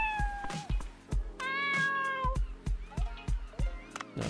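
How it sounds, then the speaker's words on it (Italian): A cat in the video game Dave the Diver meows repeatedly, a series of short close mews followed by a longer drawn-out yowl, then more quick meows. "Salve, gattino. Diamo un po' di mangime."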